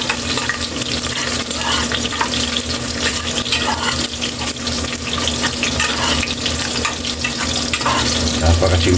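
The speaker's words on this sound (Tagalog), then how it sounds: "Ikos lang natin yan hanggang mag-golden brown ng ating bawang Kaylee" Garlic sautés in hot oil in a pan until golden, a loud steady sizzle and crackle close by with occasional stirring, filling the whole stretch without talk.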